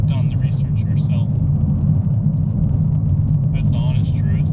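Loud, steady low road rumble fills a car cabin while driving, constant throughout, with brief bits of faint background voice or radio above it.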